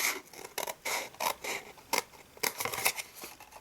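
Scissors snip through card stock in a papercraft gift box project, a series of close, quiet crisp cuts in an uneven rhythm.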